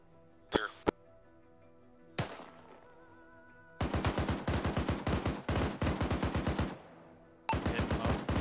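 Machine-gun fire during military motorized patrol training: a couple of sharp single shots, then long rapid bursts of automatic fire, loud and close, with brief pauses between strings and another burst at the end.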